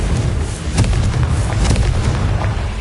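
Dull, booming blasts from the Confringo spell in Hogwarts Legacy, a steady stream of thuds and explosions that stay loud and continuous with no speech over them.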